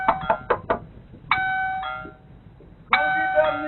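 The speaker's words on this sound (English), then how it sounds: "He was seen ringing the doorbell" A few quick knocks, then a Ring doorbell chimes twice, each ring a clear two-tone ding-dong that lingers briefly, with quiet background noise between.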